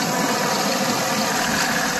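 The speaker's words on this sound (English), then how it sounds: "Got a diesel engine, hydrostat transmission, 60-inch mower deck" A Deutz Allis 5215 diesel compact tractor with hydrostatic transmission runs steadily nearby, a loud, even engine drone with a faint high whine and no talking.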